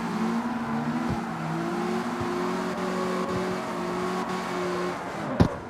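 Mazda MX-5 engine in the racing game CarX Street, a steady mid-pitched drone holding and shifting gears with small rev changes, loud and continuous, ending with a sharp thump.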